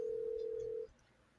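A single steady telephone ring tone comes through an online call during a game livestream, holding for under a second before cutting off to quiet background.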